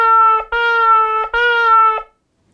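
Shofar blown in three steady, reedy blasts with a strong harmonic tone, each broken by a sharp tongue stop, shevarim-style; loud and close, no speech, ending in silence.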